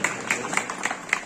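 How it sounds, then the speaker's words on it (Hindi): Schoolchildren at a government school in Hoshangabad clap together in five evenly spaced, crisp group claps, close and fairly loud, with no talk over them. "शांति के लिए ताली बजाओ।"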